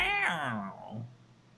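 A single strained, wavering metallic wail from the Final Fantasy IX airship breaking up, falling in pitch and fading over about a second, much like a dying cat's yowl.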